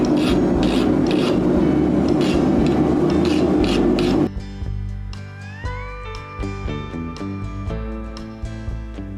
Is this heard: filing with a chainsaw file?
yes